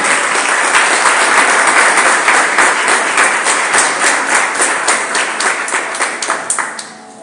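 A church congregation claps together in loud, sustained applause, individual claps becoming more distinct and rhythmic as it thins out and fades at the end.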